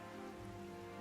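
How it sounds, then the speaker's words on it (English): Steady rain falls in the Genshin Impact world, a faint, continuous hiss of drops on surfaces with no other sounds. "Why is it raining?"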